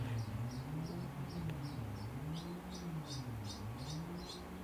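Faint, high bird chirps repeat in short bursts of about two per second outdoors, sitting over a louder, steady low hum with a slowly wavering pitch.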